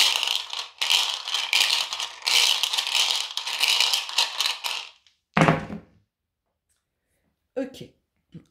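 Tarot cards shuffled by hand: about five seconds of dense, papery riffling bursts, then a sharp slap of the deck and a brief soft tap after a pause of silence.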